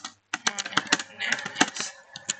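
Someone types on a computer keyboard while creating a text file, a quick, uneven run of close, crisp key clicks with a brief pause near the start and no speech.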